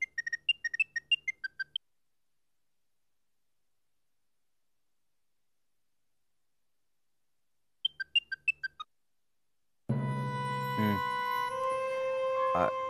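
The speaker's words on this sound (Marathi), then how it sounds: "फोन वाजतोय." A phone goes off in a Marathi TV serial scene: two short bursts of rapid electronic ringing beeps, then a long stretch of silence, followed by a louder, sustained tonal ring.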